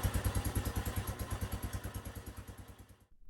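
A 1982 Honda 200E motorcycle engine, freshly running after a top-end rebuild, idles close by with a rapid, even chugging pulse. It fades slightly, then cuts off abruptly at the end.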